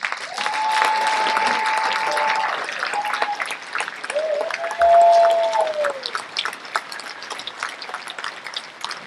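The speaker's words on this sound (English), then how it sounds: "please give them a big round of applause" Sustained applause from an audience at an NHRA drag racing awards ceremony, steady clapping that fills the room, with faint voices and a brief tone sounding over it.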